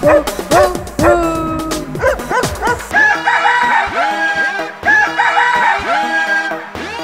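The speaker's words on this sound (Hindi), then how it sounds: "तो कुत्ता बोले भू भू भू" Repeated dog barks ring out over upbeat music in a Hindi children's nursery rhyme, mixed with a rooster-like crowing.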